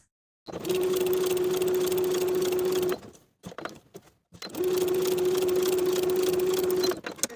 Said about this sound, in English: I'm going to sew along the outer edges of that triangle, stitching right on top of my marked lines